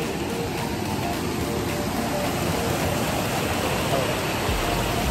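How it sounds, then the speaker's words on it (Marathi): A small stream flows beside the steps of a temple, a steady, close rushing wash of water that holds evenly for the whole stretch without pauses. "पायऱ्यांच्या बाजूलाच एक ओढा आहे छोटा"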